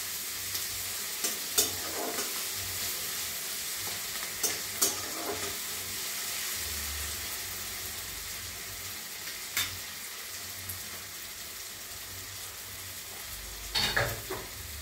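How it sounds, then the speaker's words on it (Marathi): A coriander mixture is sautéed in a pan for a puffed rice dish, giving soft continuous sizzling with occasional scraping and stirring clicks, fairly quiet and without talk. "आता हे चांगलं परतून घ्यायचं"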